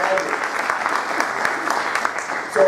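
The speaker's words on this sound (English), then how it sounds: "Let's give them another round of applause" Audience applause for General Rosenker and Heather Rosenker at a University of Maryland lecture, a steady, dense round of clapping filling the room throughout without letting up.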